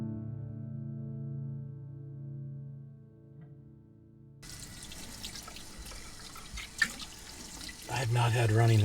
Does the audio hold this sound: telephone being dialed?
no